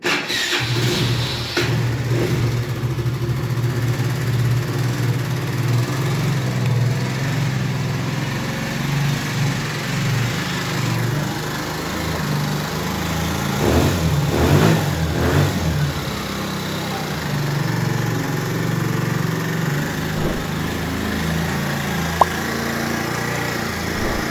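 A 139QMB scooter engine, just repaired with new piston parts and fitted with a kick starter, runs at a steady buzzing idle with a brief rise in revs midway, loud and close, with no speech.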